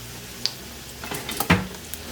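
A frying pan shifted and turned on a stove, heard as a few light metallic clinks and scrapes, one brighter knock midway, close and fairly quiet over a faint steady background hiss.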